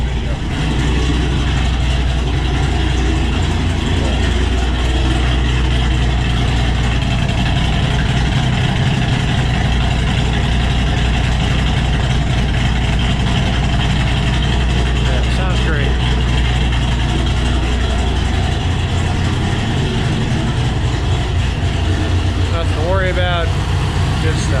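A cammed Ford Mustang GT500 idles loud and close, its deep engine rumble loping in a steady choppy rhythm that persists throughout, with faint background noise.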